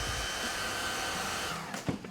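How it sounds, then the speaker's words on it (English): Hair dryer blow-drying eyelashes, a close, steady rushing airflow with motor hum that holds for most of two seconds before a brief bump and handling noise near the end. "So a lot of people keep asking me why I blow dry my lashes"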